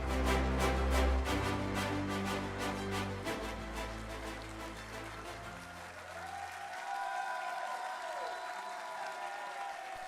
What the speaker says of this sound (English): One big round of applause for your colleagues, ladies and gentlemen.